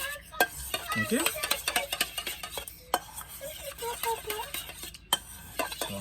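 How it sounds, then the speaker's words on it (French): Olive oil being stirred into a chopped aubergine caviar sauce, giving repeated close scraping and clinking of a utensil against a bowl in an irregular rhythm, with a brief word spoken. "Je mélange."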